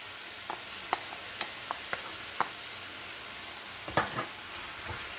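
A spoon stirs chickpeas with spices, salt and parsley in a pan, giving a few soft scraping clicks and light taps over a faint, steady sizzle, quiet and close, with no voices.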